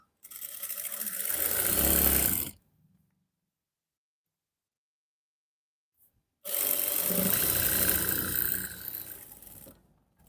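Sewing machine stitching pajama trousers: two steady bursts of fast, continuous mechanical whirring and rattling, each about two to four seconds long, separated by silence, close and alone without talk.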